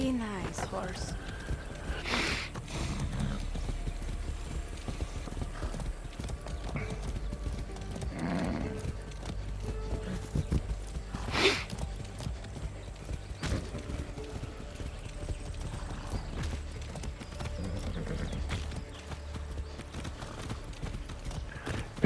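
A horse gallops with steady clip-clop hoofbeats in the video game Far Cry 6, its rhythmic pounding running continuously at moderate level beneath someone talking.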